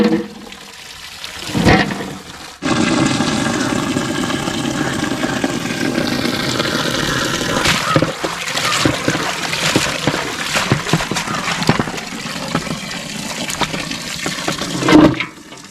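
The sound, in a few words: water being poured into a pan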